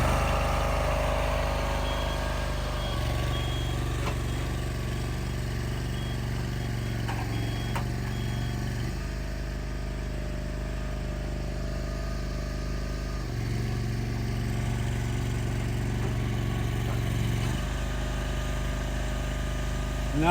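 A ResQtrack vehicle engine drones steadily at close range, its low rumble stepping up in throttle for several seconds at a time, easing back, then rising again, with faint tonal whines above the engine.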